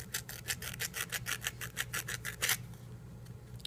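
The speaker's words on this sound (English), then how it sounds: "That's what the sandpaper's for." Sandpaper rubbed back and forth over a small metal sample to strip its oxide layer, about a dozen quick rhythmic rasping strokes, close and soft, then quiet.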